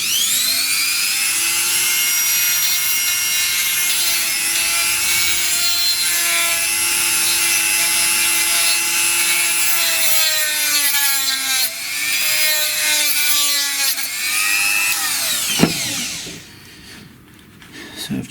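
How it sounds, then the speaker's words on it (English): Dremel rotary tool grinding the casing of GHD SS4 Type 2 hair straighteners, a loud, steady high-pitched whine held close for about fifteen seconds before it winds down. "So I've just run the Dremel around there"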